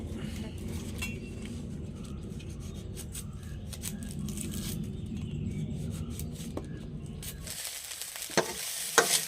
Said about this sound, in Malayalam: ഇപ്പം നമ്മൾ സോയാബീൻ ഫ്രൈ ചെയ്തെടുത്തിട്ടുണ്ട്